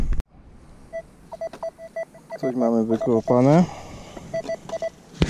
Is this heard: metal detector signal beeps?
yes